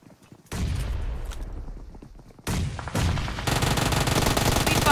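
Automatic gunfire in PUBG Mobile, including an Uzi, comes as dense, loud rapid-fire bursts that start abruptly, pause briefly, then resume, heard alone without voices.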